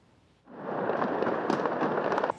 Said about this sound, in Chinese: 德国首都柏林的历史性地标布兰登堡门，迎接新年的烟火表演